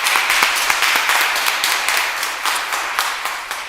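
Steady applause from a graduation audience, dense overlapping claps with a few sharper individual hits, fairly even in loudness throughout.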